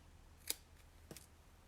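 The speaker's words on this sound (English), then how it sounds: "So I'm going to snip up the middle." Two crisp scissor snips cut up the middle of a paper card banner, a Christmas card craft; the cuts are near and isolated, separated by a short pause, with a faint hum beneath.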